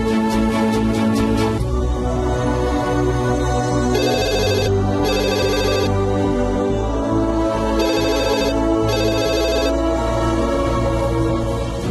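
A telephone rings in a Telugu film scene, its electronic ringtone repeating in bursts over steady background music, with no one speaking.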